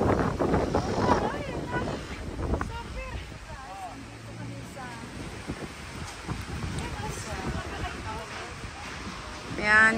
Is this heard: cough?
no